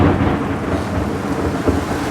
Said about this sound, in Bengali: টিনের চালের উপর বৃষ্টির শব্দটা কেমন হয়